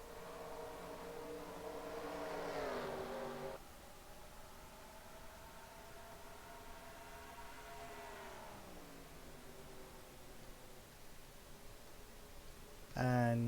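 Race cars in NASCAR Racing 2003 at New Hampshire, a steady engine drone with rising and falling harmonic pitch as cars run close together, a louder pass near the start and a sharp burst at the end.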